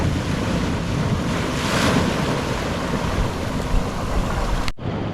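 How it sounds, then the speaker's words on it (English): Ocean waves surge and wash steadily near a sailboat, with wind buffeting the microphone throughout, a loud continuous roar that cuts off abruptly near the end. "And we're getting some wave action."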